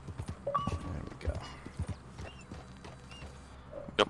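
Horse hooves clip-clop in Red Dead Redemption 2, a steady rhythmic stream of hoofbeats at moderate loudness with a few game sounds over it.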